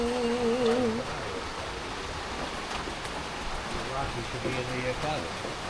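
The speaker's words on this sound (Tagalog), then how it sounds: "It is raining." Steady rain falls throughout, a continuous even hiss of drops on surfaces, with voices speaking over it in the first second and again briefly later.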